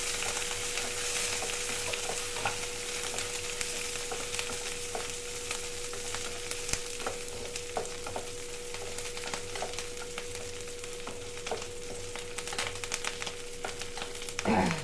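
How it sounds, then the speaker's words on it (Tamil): Urad dal, chana dal, onion and dried chillies sauté in a pan with a constant crackling sizzle and frequent light stirring scrapes and taps, close and even throughout. "நல்லா வதக்கலாம்."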